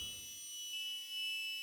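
A simple synthesizer melody from a mosquito module runs through a high-pass filter, giving thin, sustained high tones with a brief low buzzing rumble at the start, then steady bright held notes alone.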